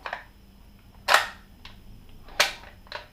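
A newly unboxed airsoft gun fires two loud, sharp cracks about a second apart, with quieter clicks and mechanical handling noises between them.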